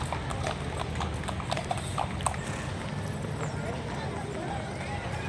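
Horse hooves clip-clop in a quick, steady rhythm, close and clear, while voices talk in the background.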